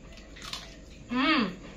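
Close, loud crunch of someone biting into a crispy fried Indonesian pastel pastry made without egg, its bumpy savory shell eaten cold; one short burst of crackling mouth noise after a quiet lead-in, with no talking over it.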